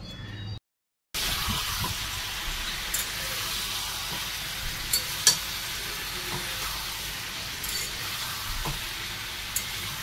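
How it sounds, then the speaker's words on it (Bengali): Meat frying in a pan makes a steady, close hiss and sizzle with faint stirring scrapes. It continues after a brief silent gap at the start. "মাংসটা এখন ভেজে নিই, মাংস ভেজে কষা রান্না করবো"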